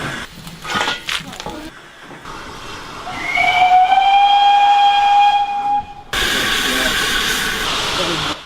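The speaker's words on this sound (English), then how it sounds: "The engine was steaming up, time to get on board." A steam locomotive engine steaming up, with a long, loud whistle sounding over a steady hiss of steam and a burst of harsher venting near the end.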